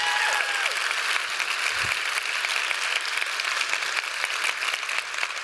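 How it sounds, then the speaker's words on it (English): An audience at a Weight Watchers International show applauds steadily, a dense wash of clapping that holds at a fairly constant loudness throughout without voices on top. "So let's give another round of applause to all the people you just heard from."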